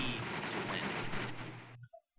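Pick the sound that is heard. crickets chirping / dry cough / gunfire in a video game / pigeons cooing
gunfire in a video game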